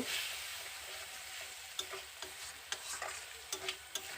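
Steady frying sizzle of spice paste in a pan with scattered scraping clicks from a spoon stirring, close and fairly quiet, no voices.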